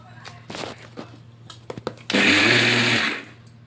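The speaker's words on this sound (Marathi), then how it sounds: "तर आता मी सगळी साखर अशीच बारीक" A mixer grinder powders sugar for shankarpali, a loud steady whirring burst of about a second that rises and cuts off, preceded by clatter and handling knocks.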